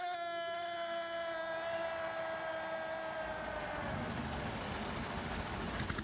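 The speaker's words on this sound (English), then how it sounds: "drivers, start your engine!" Thirty-eight stock race cars firing up at a large stadium race, a dense roar of engines with whining tones gliding downward, then a broad rumbling wash heard from a distance.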